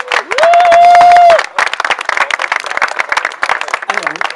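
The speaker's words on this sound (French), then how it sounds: "bravo, on peut les applaudir quand même" Wedding guests clapping and cheering in a lively burst after a loud whistle-like cry, quick irregular claps mixed with crowd voices and talk.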